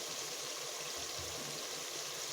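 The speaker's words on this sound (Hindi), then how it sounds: "अब हम इसमें पानी शामिल करेंगे।" Water pours steadily into a cooking pot of pea pulao with boiled peas inside, a continuous soft splashing stream that stays at an even level throughout.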